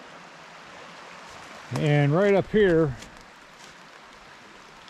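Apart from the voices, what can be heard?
creek water flowing at Little Salmon Creek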